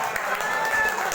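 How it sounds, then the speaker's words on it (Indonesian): A school audience applauds at a positive-culture dissemination event, a brief, steady wash of clapping with voices mixed in. "Tepuk tangan buat puasa."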